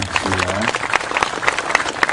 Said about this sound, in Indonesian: Tepuk tangan teman-teman semua.